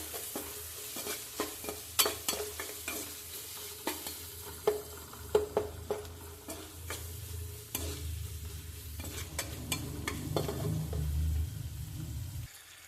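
Turmeric powder frying in a pan for an okra dish, with sharp spoon scrapes and clinks against the pan over a soft sizzle, building into a steadier frying hiss toward the end, close by.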